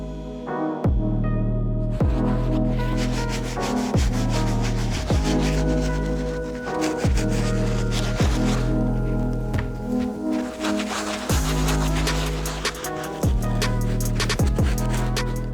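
A soft brush scrubbing suede Adidas sneakers, with repeated rubbing strokes in a steady back-and-forth rhythm, close up and loud over a droning background of music, with no talking.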